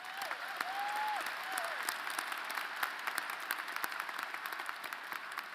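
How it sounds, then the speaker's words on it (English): Sustained audience applause fills a university commencement hall, dense and even throughout, with a few whoops and a faint voice rising early on above the clapping. "A round of applause for Laura and Ellen."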